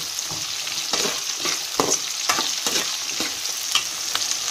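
Garlic sizzling steadily in oil in a pan for a pepper-garlic gravy, with a spoon scraping and stirring through it in uneven strokes, close and moderately loud throughout.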